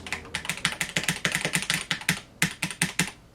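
Hard, forceful typing on a DrunkDeer A75 mechanical keyboard gives a close, loud, fairly steady run of sharp key clacks, with a brief pause before the last few strikes.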